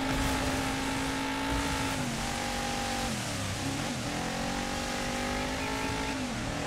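A race car engine in the Dirt 5 racing video game drones and shifts pitch at speed, revving loud and continuous with gear changes, alone without talk.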